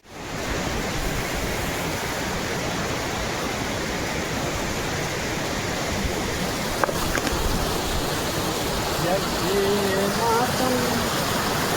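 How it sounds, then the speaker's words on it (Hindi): A mountain stream (gadhera) in the hills rushes steadily as broadband roaring water close by, with a faint voice briefly audible under the flow near the end. "एक गधेरा ये है आगे।"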